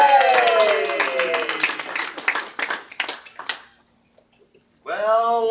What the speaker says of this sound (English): Round of applause, great one please, for Ryan Bradley.